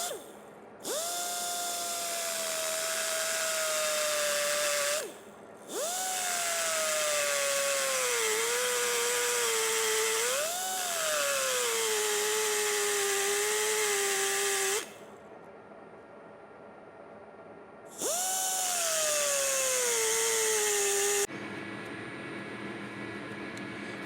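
A lathe spindle turns slowly while machining a hardened gear during a lathe repair, giving a tonal mechanical whine that starts and stops in several runs, its pitch wavering as the cut loads the machine.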